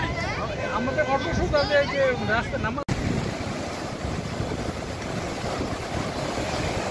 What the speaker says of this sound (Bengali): এখন আমরা আছি পাটুয়া টেক সমুদ্র সৈকত।